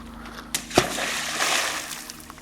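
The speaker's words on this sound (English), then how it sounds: "that was an impressive splash, don't you think?" A stone drops into water at Torridon, giving a sharp close splash followed by sloshing and fading ripples against a quiet outdoor background.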